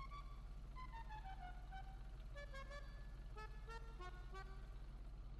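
A vintage musical klaxon plays a descending then rising tune of clear horn notes, busier and more layered in the second half, above a steady low engine hum.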